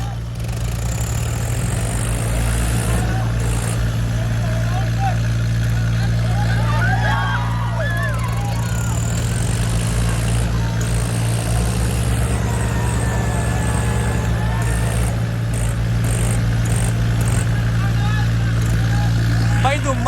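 Swaraj 855 and Swaraj 744 tractors strain in a tug of war, their diesel engines roaring loudly and continuously up close while a crowd and voices carry underneath.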